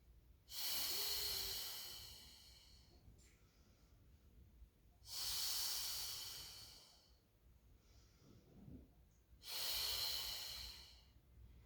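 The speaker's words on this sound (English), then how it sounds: "And inhale, lower. And exhale, lift." Three long, loud, close breaths drawn in and pushed out during a Pilates mat exercise, each a breathy rush of air lasting about two seconds, separated by quiet pauses.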